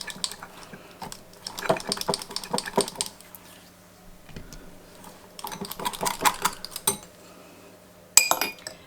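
A spoon scrapes and clinks in a small bowl while a vinaigrette for a Thai chicken salad with ginger and peanut is mixed, coming in quick repeated bursts with brief pauses, close and fairly loud.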